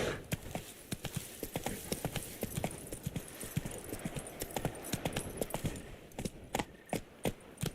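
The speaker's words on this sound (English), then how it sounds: "Run, Roach." Rhythmic hoofbeats of a galloping horse in The Witcher video game, a steady close clip-clop pattern running throughout without pause.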